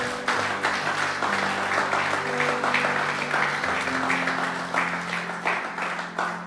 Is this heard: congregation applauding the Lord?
yes